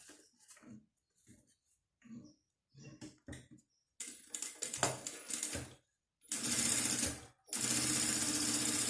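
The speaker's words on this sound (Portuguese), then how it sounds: "Vou passar uma costurinha aqui rapidinho" A sewing machine stitches the fabric lining of a small pouch in two steady, fairly loud runs near the end, preceded by scattered handling clicks and short mechanical taps; no one speaks.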